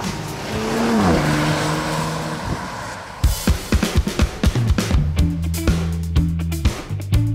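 A new-generation BMW X5 with a 3.0-litre turbocharged six-cylinder petrol engine drives on a test drive. A loud engine drone rises, then gives way to a string of sharp, rhythmic knocks and tire noise.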